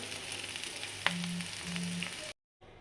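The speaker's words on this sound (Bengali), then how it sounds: "এখন বেশি ভাজিনি, হালকা করে ফ্রাই করছি।" Winter vegetables lightly frying in oil for a vegetarian dish, a steady close sizzle with a brief clink of a utensil partway through, cutting off abruptly near the end.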